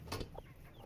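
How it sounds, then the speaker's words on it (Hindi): A hen clucks near her newly hatched chicks in a brief, close burst lasting under a second, with faint background noise. "ये चित्ते पित्ते बड़े प्यारे चूजे हैं"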